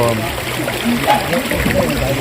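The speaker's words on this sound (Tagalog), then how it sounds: "nasa Ligaon River, o ilog ito, o suba ang tawag dito" Water of the Ligaon River flowing and trickling steadily, a continuous close burble and splash filling the whole moment with no pauses.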